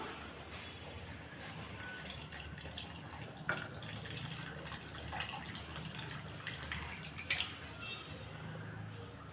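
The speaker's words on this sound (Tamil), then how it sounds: "இப்போ நம்ம வேக வச்ச பருப்பை சேர்த்துடலாம்" Cooked toor dal with tomato tipped into a pot of boiling sambar makes soft wet plops and squishy drips over a continuous low bubbling, close and moderately quiet.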